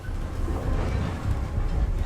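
Inside a Sapsan high-speed train running at full speed, a loud steady low rumble of wheels rolling on rails fills the car, constant and unbroken, with no voices.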